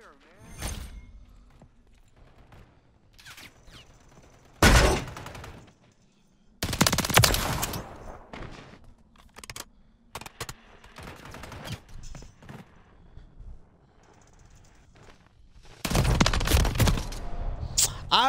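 Bursts of rapid gunfire in Call of Duty: Modern Warfare III, loud volleys coming in clusters with gaps between them, a player talking over parts of the action.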